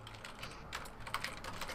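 Quick keystrokes on a computer keyboard typing a chat message during an online card game duel, soft clicking taps in uneven bursts, fairly faint and close with no speech.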